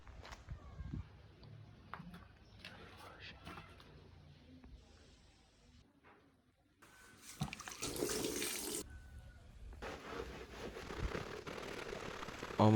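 Car floor mats being washed with running water, first with scattered splashes and scrubbing, then a steady rushing spray that grows louder toward the end.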